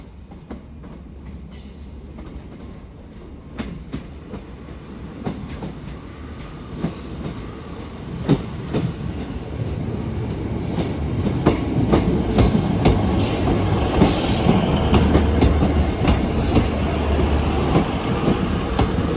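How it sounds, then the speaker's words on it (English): A train rumbles into a station in Devon with rising clatter and rattling wheels, growing louder and nearer, with brief squeals over the steady rolling noise. "Anyway, train's almost here."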